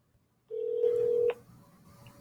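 Phone dialing into a Google Meet dial-in number: brief silence, then a steady electronic tone for under a second ending in a short chirp, followed by a faint hum.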